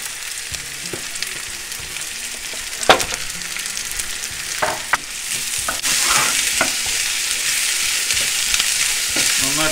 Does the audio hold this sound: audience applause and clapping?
no